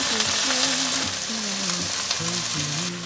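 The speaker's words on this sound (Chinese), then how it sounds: "转小火慢慢的煎" Over low heat, bean buns sizzle slowly in an oiled pan, a continuous, moderately loud frying hiss with a gentle melody playing quietly underneath and no talking.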